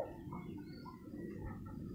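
A spotted dove calls in a low, soft cooing, a steady murmur over a faint background without pauses or other sounds.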